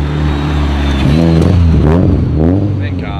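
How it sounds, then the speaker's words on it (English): Turbocharged KA-engined Nissan 240 drift car accelerating close by, a deep engine note climbing in pitch in repeated rising sweeps, loud and continuous. "Ooh, the turbo, you can hear it."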